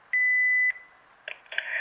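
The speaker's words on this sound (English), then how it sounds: "please leave a message after the tone" A VTech CS-6858 DECT 6.0 cordless phone's answering system sounds its record tone: a single steady beep held for about half a second, followed by faint clicks and rising handling noise.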